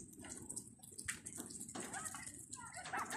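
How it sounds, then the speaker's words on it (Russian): Meltwater drips and trickles from snow-covered roofs after a snowstorm on a mild day, a continuous faint patter with scattered sharper drops, heard from outdoors. "это у нас с крыш капает"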